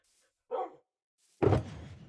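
Dogs in Minecraft give two separate barks, a short yip followed by a louder, longer bark about a second later, close and clear against silence.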